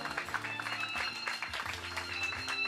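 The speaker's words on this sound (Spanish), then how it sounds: "Fuertísimo aplauso, por favor." Guests at a quinceañera party applaud in a faint, continuous patter heard over background music with sustained tones.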